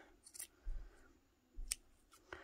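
Scissors trim knitted yarn on a small knit Santa, giving a few quiet, separate snips with soft handling sounds between them in a still room.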